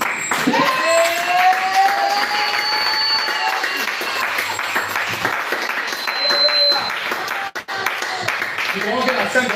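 A church congregation applauding, loud sustained clapping from a crowd with some cheering, running almost unbroken for several seconds while a preacher speaks in French over it.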